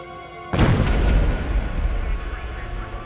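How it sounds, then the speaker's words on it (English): Parcel bomb exploding inside a university office, a sudden heavy boom that bursts out of quiet and rumbles on with a long, loud roaring decay. "It exploded with incredible violence, destroying everything in the office."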